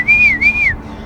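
A single short whistled call, rising and dipping in two quick swoops, loud and close, with no voices.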